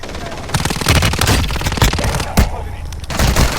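Rapid bursts of automatic gunfire in the WarZone Mobile shooter game crackle close and loud throughout, dense repeated shots with sharp peaks, under a player's muttered voice.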